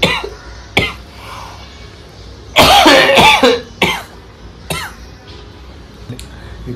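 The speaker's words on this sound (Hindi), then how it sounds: "ये खांसी है" A person with a fever and cold coughs in several separate bursts, with one long, harsh, rasping fit in the middle and shorter single coughs around it, all close and fairly loud.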